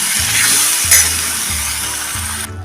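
Spice paste for a raw mango kadhi sizzles and fries in hot tempering oil, giving a loud, continuous crackle while a low steady hum runs underneath. It cuts off abruptly at the end.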